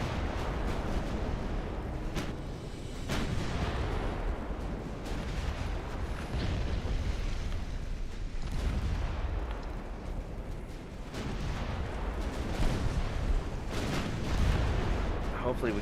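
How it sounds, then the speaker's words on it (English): Naval guns firing on a battleship in the naval strategy game Ultimate Admiral Dreadnoughts, a steady barrage of heavy booms and rumbling blasts running the whole time, loud and dense with repeated sharp bursts. "I really want all you guys to fire on this battleship"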